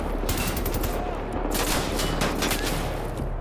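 Marksman rifle fire in Wolfenstein: The New Order, heard as repeated sharp gunshot bursts scattered through a dense, steady background of game combat noise, fairly loud throughout.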